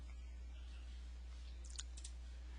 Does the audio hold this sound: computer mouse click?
yes